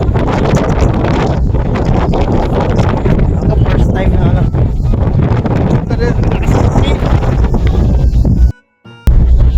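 Strong wind buffeting across the deck of the MV 2GO passenger ship off Iloilo, a loud continuous roar and rumble against the microphone, with people talking under it and a brief dropout near the end.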